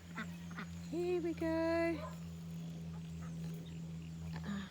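A pet duck quacking among backyard birds and chicks, a short burst of nasal quacks over a steady low hum, with a person speaking briefly nearby.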